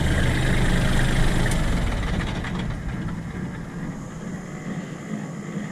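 A Kubota L3400 tractor engine running, a loud steady low rumble and chug close by that eases slightly in volume, with no talking.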